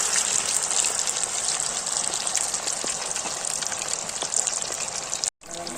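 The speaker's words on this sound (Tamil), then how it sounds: "கிரீன் சிக்கனை தண்ணியில இறக்கியாச்சு." Whole green-marinated chicken lowered into a pot of water or oil, giving a steady loud rushing, bubbling gush that carries on throughout, briefly cut off near the end.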